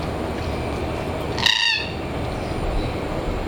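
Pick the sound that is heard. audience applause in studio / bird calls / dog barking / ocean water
bird calls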